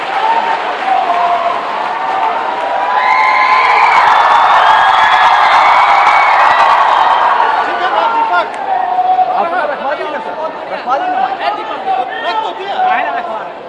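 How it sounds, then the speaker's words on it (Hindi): A crowd of children at a rally claps and cheers to welcome a former Chief Minister, a loud swelling ovation mixed with shouts and chatter that gradually thins out into scattered voices. "जोरदार तालियों से बच्चों हम स्वागत करें पूर्व माननीय मुख्यमंत्री जी का"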